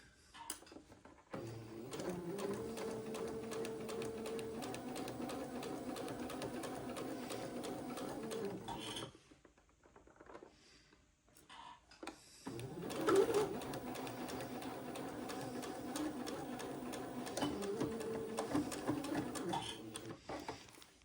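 A sewing machine stitches the placket of an Eton suit in two long runs of rapid, even needle chatter, with a short pause between them. The sound is close and moderately quiet.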